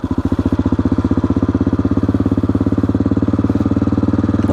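An AJP PR7 motorcycle pulls away in first gear, its engine thudding in a steady, close, loud rhythm of firing pulses that quicken slightly as it moves off, with no talk.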